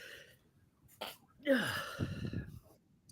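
One sharp, close sneeze bursts out after a quick intake of breath, then fades into a short exhale; no speech.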